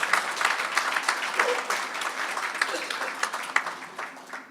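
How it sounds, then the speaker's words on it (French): Audience applause in a conference hall during a ministerial council meeting, steady clapping from many hands that carries on for several seconds and fades slightly at the end. "Applaudissements, s'il vous plaît."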